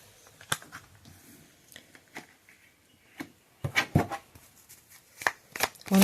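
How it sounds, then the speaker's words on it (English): A tarot card deck is shuffled by hand in a series of crisp riffles and soft slaps, quiet at first and then louder, close up with no talking. "I shuffle these decks and the same cards keep going"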